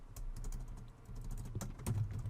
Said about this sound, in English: And then we'll start typing down here.